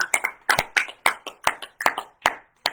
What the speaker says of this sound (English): Give a big hand of applause for Barry.